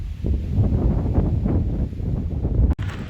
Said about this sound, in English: It's so windy out here, dude.